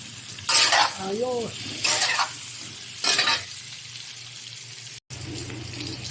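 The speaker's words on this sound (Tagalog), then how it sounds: "Bawang sa olive oil. Saute." Garlic sautéing in olive oil for salt and pepper ribs, heard as three short loud bursts of sizzling and stirring, with a quiet kitchen hum between them and a brief spoken word near the start.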